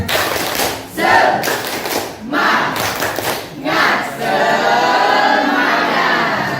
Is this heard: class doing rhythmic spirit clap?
yes